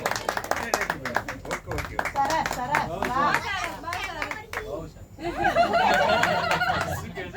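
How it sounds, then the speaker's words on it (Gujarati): An audience claps at a live Gujarati devotional song stage performance, the applause mixed with talking and light chuckles, swelling more fully near the end. "અરે સર તમે જ આપો ને એકવાર જોરદાર તાળીઓ થઈ જાય"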